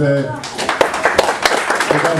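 Scattered hand clapping from an audience at an address by a Knesset member, a few loose claps breaking out as a voice trails off.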